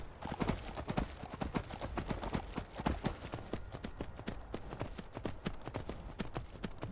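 Horse hooves clip-clop steadily on ground in the Skyrim video game, a fast regular gallop of sharp close thuds that keeps going throughout, fairly quiet, with no talk.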